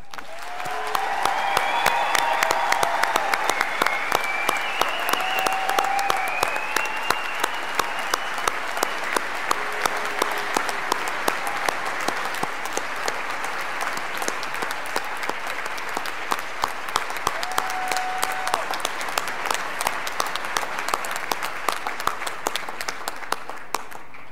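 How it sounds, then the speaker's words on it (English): Sustained applause from a large crowd at a Wilmington College graduation ceremony, dense steady clapping continuing throughout with a few faint whoops rising above it. "please join me in giving a round of applause to our newest Wilmington College alumni"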